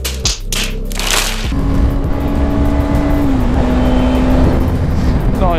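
A Suzuki GSX 250 R motorcycle engine drones steadily while riding, loud and close with a sustained whine and wind rush; a brief burst of other noise opens the clip before the engine note settles.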